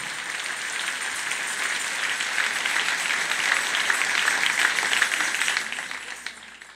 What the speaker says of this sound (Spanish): Dale un aplauso al Señor en esta linda y preciosa mañana